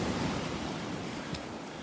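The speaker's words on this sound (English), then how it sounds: "because of these waves just churning up the sand" Surf at a North Naples, Florida beach churns up sand, making a steady, full rushing wash that fills the whole moment, with some wind noise on the microphone and no voices.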